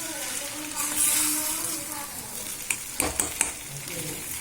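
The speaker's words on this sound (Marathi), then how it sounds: "मला कंटिन्युअसली हलवत राहायचं आहे, म्हणजे ते जेणेकरून थोडीशी शिजेल चांगल्या पद्धतीने" Kurdai chutney stirred continuously in a pan, giving a bright, steady sizzle with scraping strokes and a few quick utensil clicks toward the end.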